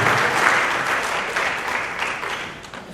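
Sustained applause from a pageant audience for the judges at a Herbstfest queen contest, a dense wash of many hands clapping at steady loudness that tapers slightly toward the end.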